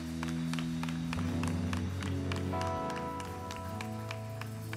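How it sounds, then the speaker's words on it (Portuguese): A church congregation claps during a service, a steady wash of many hands with sharp repeated accents, over sustained organ or keyboard tones and a low music bed. "Dê uma salva de palmas a Ele."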